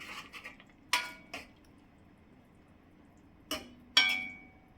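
A spoon clinks against a pan while eggplant curry with amchur powder is mixed, giving a few sharp separate knocks and scrapes, close and fairly quiet, with no talking.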